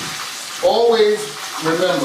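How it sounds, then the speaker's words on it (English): Chicken legs deep frying in a pan of hot oil, a steady close sizzle and crackle throughout, with a person talking briefly over it. "You just might hear sizzling from my lemon pepper wings, but my chicken leg pan, that's the sound you want."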